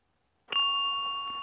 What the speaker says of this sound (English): That's it, a single bell code.